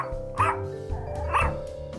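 A dog named Mona gives two short, close barks about a second apart, over a steady low hum in the background.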